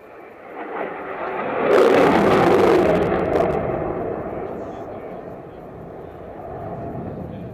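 An aircraft flying a pitch rate demonstration at the Reno Air Races, a loud roaring jet-like swell that builds quickly, peaks, then slowly fades while a rumbling drone lingers in the distance.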